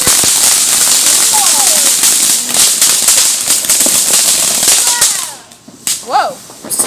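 Loud crackling bursts of firecrackers pop continuously, with chatter and shouts from people nearby mixed in.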